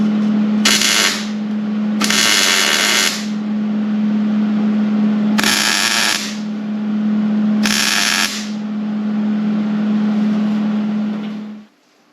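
Tack welding an exhaust pipe together for an over-axle exhaust: four loud bursts of broadband welding crackle, each about a second long, over a steady low electrical hum from the welder that keeps running between the bursts.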